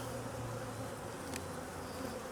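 Honeybees buzzing inside a nuc box, a steady, close, droning hum with no voices.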